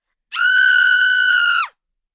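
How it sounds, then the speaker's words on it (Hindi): A single sustained high scream, eerie and steady in pitch, rises abruptly, holds loud for over a second against silence, then breaks off with a short downward fall, set in a jungle at night. "अचानक रात के सुकून को तोड़ती हुई एक चीख गूंजती है।"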